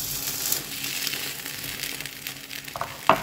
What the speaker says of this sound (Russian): Обжаривать этот пирог или блин, или как его назвать, будем с обеих сторон.